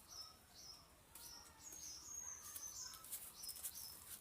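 A pair of pigeons flap their wings in repeated short bursts, close and fairly quiet, with a few faint chirps in between.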